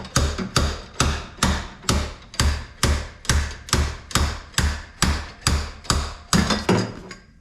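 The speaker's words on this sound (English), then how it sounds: "Pull hammer to the rescue." Pull hammer yanking a stuck part off a 1961 VW Beetle, about eighteen sharp metallic slams in a steady rhythm, each followed by a short ringing decay, close and loud with no talking.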